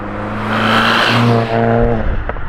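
Turbocharged Subaru WRX engine fitted with a Perrin equal length header, with a possible small exhaust leak at the turbo manifold, revving steadily and loud up close with a sustained droning tone and a slight dip midway.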